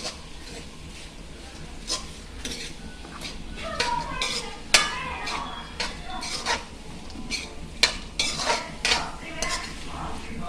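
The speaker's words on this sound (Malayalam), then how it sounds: "അതും കൂടെ മിക്സ് ചെയ്ത് നമ്മൾ കൊച്ചുള്ളി ആഡ് ചെയ്യുവാണ്" A spoon scrapes and clinks in a pan while shallots and coconut pieces fry for a Kerala-style beef dish, with irregular stirring knocks over a soft, steady sizzle; someone speaks at times.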